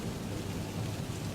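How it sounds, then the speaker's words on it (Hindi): Steady rain pouring with a low rumble of thunder underneath, a dense continuous storm wash throughout with no voices. "इतने में बारिश शुरू हो जाती है।"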